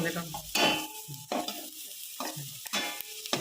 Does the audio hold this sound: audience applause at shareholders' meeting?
no